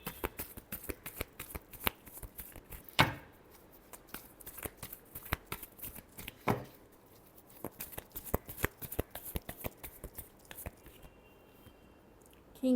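Tarot cards being shuffled up close, a quiet stream of rapid riffling flicks and slaps with a few sharper snaps, continuing for several seconds.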